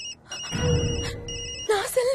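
A mobile phone rings in repeated electronic tone bursts, fairly loud and close, while a voice speaks over part of it.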